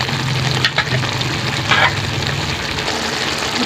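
Pechay greens and canned sardines frying in a pan, a loud continuous sizzle close up, broken by a couple of scraping stirs of the spatula partway through.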